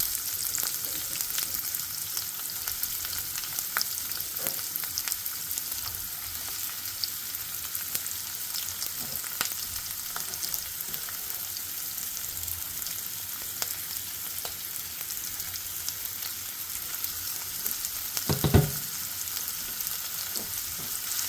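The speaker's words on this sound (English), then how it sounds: "We have our pan here with olive oil over medium to high heat, and we're going to saute our vegetables" Vegetables saute in olive oil in a pan over medium-high heat, giving a steady, close sizzle that runs the whole time, with a few soft stirring scrapes and one brief louder clatter near the end.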